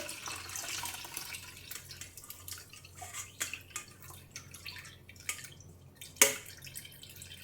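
Boiled liquid for a hair remedy poured through a strainer, giving a steady trickle and drip of water with a few sharper splashes, close up and without speech.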